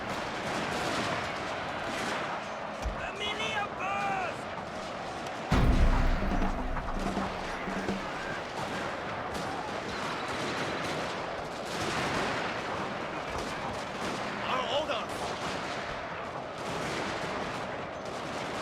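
Massed musket volleys from line infantry troops in Total War: Shogun 2, Fall of the Samurai crackle steadily in dense overlapping bursts, with a heavier boom partway through over constant battle ambience.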